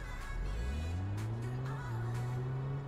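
A car driving in the life-simulation game Big Ambitions, a steady engine hum rising gently in pitch as it accelerates, continuous and moderately loud with no talking.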